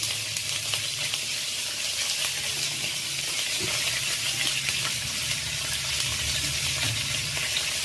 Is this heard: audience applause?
no